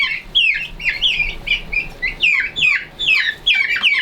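Stressed chickens in a new pen cluck and squawk continuously, close and loud, with rapid overlapping calls.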